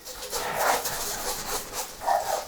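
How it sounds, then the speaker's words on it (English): A dog barks and whimpers in a few muffled, rising yelps indoors, somewhat distant and partly masked by steady background noise during a painting session. "there's Norman, the dog barking. I do apologise. He often joins in with the videos"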